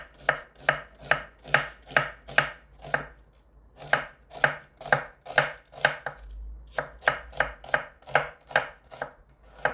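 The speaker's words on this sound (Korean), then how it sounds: "얇게 채를 썰어줄게요" A knife thinly slices a small onion on a cutting board in quick, regular chops, a close and crisp run of strokes with a short pause midway and no speech.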